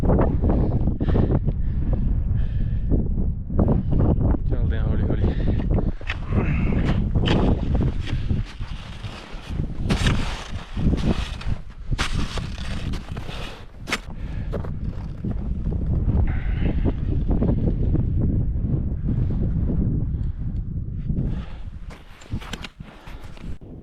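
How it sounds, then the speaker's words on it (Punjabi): Strong winter wind on the summit of Mount Lawrence Grassi near Canmore buffets the microphone with heavy, roaring gusts that surge and dip nonstop for over twenty seconds, loud and close, with faint crunching movement mixed in. "ਇੰਨੀ ਕੁ ਜ਼ਿਆਦਾ ਹਵਾ ਵੱਧ ਗਈ ਸੀ ਤੇ ਖੜਨਾ ਔਖਾ ਹੋ ਗਿਆ ਸੀ ਹਵਾ ਧੱਕ ਕੇ ਲੈ ਕੇ ਜਾਂਦੀ ਸੀ"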